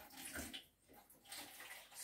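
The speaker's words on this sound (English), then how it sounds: "wash my hands" Hands being washed under a running tap, a steady close rush of water splashing for about two seconds with no talking.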